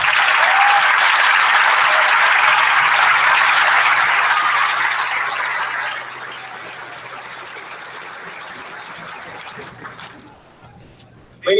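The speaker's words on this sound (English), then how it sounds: "Please join the class of 2017 in a well-deserved round of applause." A large audience at the HBHS class of 2017 high school graduation applauds faculty in a dense, sustained wash of clapping that holds loud for several seconds, then thins and fades toward the end.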